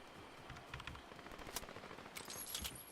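Rapid bursts of choke cannon gunfire crackle in a video game, a quick uneven stream of sharp shots at moderate level with brief pauses between volleys.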